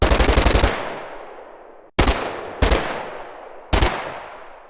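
Gunfire effect in a Taiwanese radio drama set at Keelung harbor after the 228 Incident: a rapid machine-gun burst, then three single loud shots, each trailing off in a long echoing decay.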